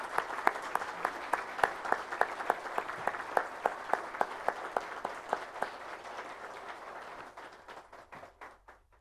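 Attendees at a formal solemn session marking a bankers' union's 80th anniversary in Caxias do Sul clap in a steady, synchronized rhythm, the sharp beats tapering off into scattered claps as it fades out.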